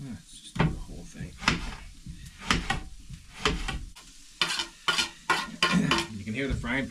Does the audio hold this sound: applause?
no